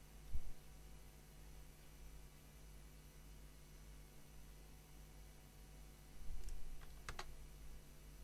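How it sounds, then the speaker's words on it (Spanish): Typing an IP address on a computer keyboard ends in a few crisp clicks and a final key press, faint and close against a quiet electrical hum. "pondremos la dirección IP y le daremos al enter"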